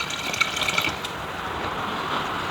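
Water pours and splashes steadily into a container of rice being washed, a close, continuous liquid rush with a few small splashes.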